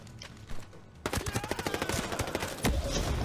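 Rapid bursts of gunfire in Ghost Recon Breakpoint, a quick string of loud close shots firing in fast rhythm after a brief pause, followed by a heavier blast near the end.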